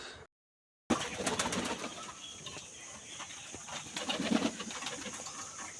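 Soft, low cooing from pigeons close by, repeated murmurs over a quiet background after a brief silence at the start.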